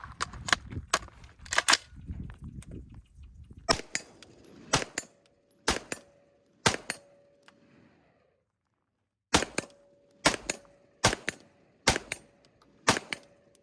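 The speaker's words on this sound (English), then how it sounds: "But yeah, so shooting this rifle, it shoots so nice." Daniel Defense rifle with a 12.5-inch-class barrel firing single gunshots at an outdoor range, a dozen or so sharp cracks spaced irregularly with pauses between, loud and close with no talking.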